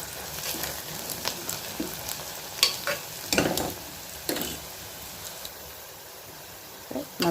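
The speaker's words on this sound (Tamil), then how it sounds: "ஒரு இனுக்கு கருவேப்பிலை சேர்த்து நல்லா வதக்கி வச்சுக்கலாம். நல்லா வதங்கணும்" Onions and curry leaves sauté in a pan for a beef gravy, with a steady low sizzle broken by several sharp scraping stirs of a spoon against the pan.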